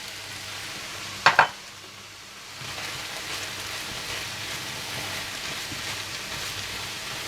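Chicken filling with lemon juice, crushed black pepper and salt cooks in a pan, giving a soft, steady sizzle after a couple of sharp clinks of the utensil early on.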